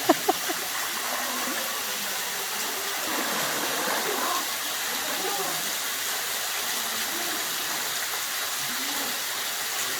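High mountain water pours into a tight horseshoe valley at Caldeirão Verde in Madeira, a steady broadband roar that fills the air throughout, with a few brief sharp knocks at the start.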